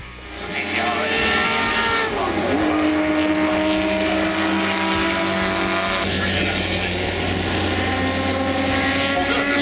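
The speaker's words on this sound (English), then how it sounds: "a Ferrari 250 GTO racing full throttle around the track. And hearing that V12 come to life" A vintage Ferrari 250 GTO with a V12 races at full throttle around Laguna Seca during Monterey Car Week. The engine rises into a loud, sustained howl with shifting pitch, close by and dominant the whole time.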